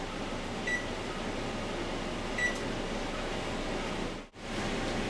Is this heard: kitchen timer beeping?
yes